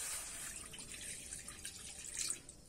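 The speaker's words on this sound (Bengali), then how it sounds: "এবার কিন্তু এখানে জল দিয়ে দেবো অল্প করে।" A little water trickles and splashes into a wok set on a lit stove, a soft, faint pouring sound that carries on steadily for a few seconds.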